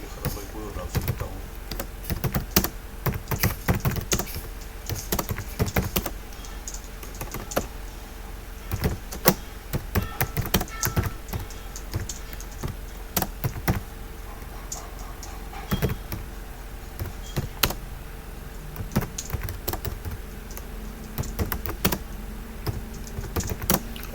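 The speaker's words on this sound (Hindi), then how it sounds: "दोबारा इसको थोड़ा बैक स्पेस करके ख़त्म कोई और ड्राफ्ट लिखता हूँ।" Rapid irregular keystrokes on a computer keyboard while working in an Urdu text layout program, close and clear, in bursts with short pauses throughout, including repeated backspace presses.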